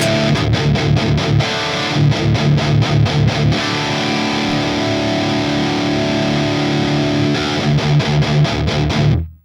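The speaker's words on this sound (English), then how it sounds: "what you hear is a very distorted tone, but it's also kind of fizzy and it's kind of muddy at the same time" Heavily distorted electric guitar through a 5150 amp model on an HX Stomp, set up as a metal preset: loud, chugging palm-muted riffs with stops and sustained chords, fizzy and muddy in tone, with no talking.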